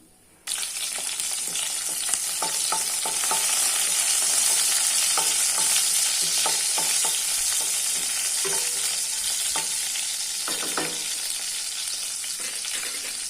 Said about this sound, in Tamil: இப்போ இது கூடவே வந்துட்டு கருவேப்பிலையும் பூண்டும் ஆட் பண்ணி நம்ம வதக்கலாம்.